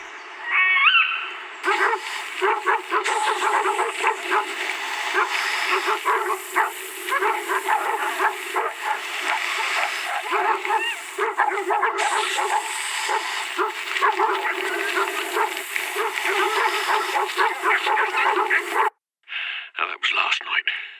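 Dogs bark and yip almost without pause for about nineteen seconds as a muffled, slightly distant playback, with sharp high yelps near the start, then a short gap and a brief final burst.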